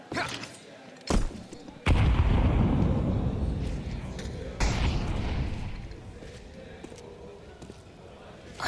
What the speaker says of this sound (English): Torshi's going for smoke shots.